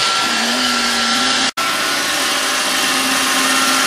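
A Roomba robot vacuum cleaner runs with a steady whining motor hum, loud and close, broken once by a brief cutout midway before resuming unchanged.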